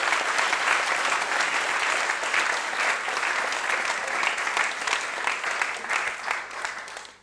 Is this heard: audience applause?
yes